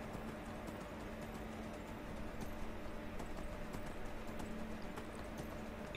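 Steady clip-clopping of a horse's hooves in Skyrim, an even galloping beat running throughout over dense game background noise.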